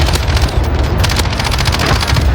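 Airstrike explosions in an online shooter video game land in a dense, continuous barrage, loud and close, booming rumble layered with rapid crackling blasts throughout.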